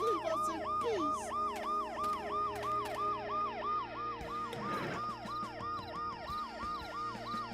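Ambulance siren in the video game Dead Synchronicity wails in a steady, repeating rising-and-falling cycle, loud and close throughout, over a low hum, with a brief burst of noise midway.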